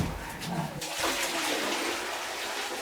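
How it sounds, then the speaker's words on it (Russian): Water is poured out and changed, a close, steady rushing and splashing that lasts throughout. "подожди, я воду поменяю"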